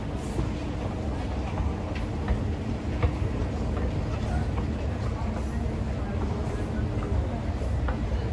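Frankfurt Airport SkyTrain people mover running toward Terminal 2, a steady low rumble of the rail car with faint clicks and rattles throughout, voices murmuring underneath.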